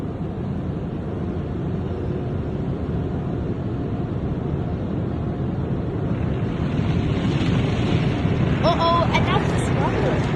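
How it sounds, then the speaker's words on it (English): Automatic car wash sprays of soap and water hit a car in a steady, dense hiss heard from inside, growing louder midway, with a voice briefly audible toward the end. "They're spraying our car, washing it."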